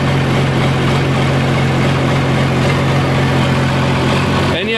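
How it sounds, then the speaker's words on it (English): An Oliver 1855 tractor's diesel engine idles steadily with a low, droning hum and a slightly uneven, hunting rhythm from a poorly adjusted injection pump, loud and close throughout. "obviously the injection pump isn't quite right. It shouldn't hunt like that."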